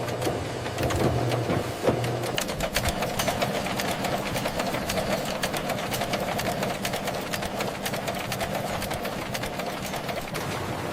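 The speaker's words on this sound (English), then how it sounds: "The first printing stage applies the background colors of the bill." Industrial currency printing press laying down background colours on US dollar bills, a loud continuous mechanical rumble with rapid regular clacking running throughout, no voices.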